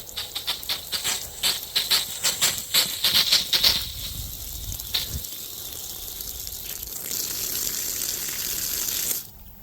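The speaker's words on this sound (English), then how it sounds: "Now we're going to squeeze the nozzle, get some of the air out." Air-laden water sputters and spits in uneven bursts from a garden hose nozzle on a VEVOR NW-S40 retractable reel fed by a 12-volt DC pump from an IBC tank, then settles into a steadier hiss of flow.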